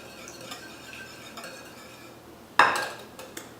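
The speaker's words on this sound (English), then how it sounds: "mix this together before I add anything else" A utensil knocks against a bowl of French toast batter with almond extract, faint scraping, then one sharp clink and a brief rattle, close and alone.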